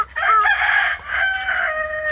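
A chicken's loud, drawn-out call rings close by during feeding, rising and wavering, then a second call follows after a brief pause.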